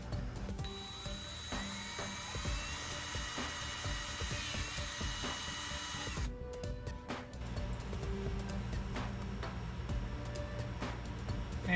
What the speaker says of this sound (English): I got my little hand drill here.